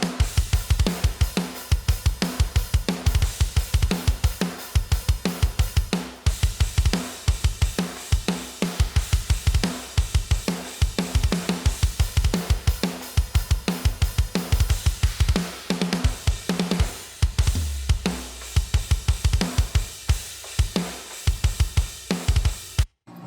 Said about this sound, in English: So that's the sound of the whole drum kit.